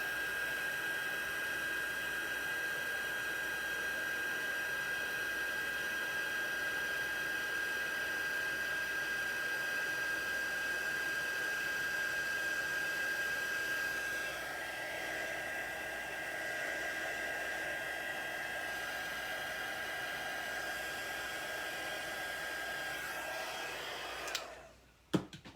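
A heat gun blows steadily for heat embossing, a loud continuous whirring rush lasting over twenty seconds with a slight shift in tone midway, then cuts off abruptly with a click at the end.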